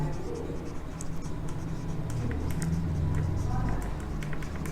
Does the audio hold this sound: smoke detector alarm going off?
no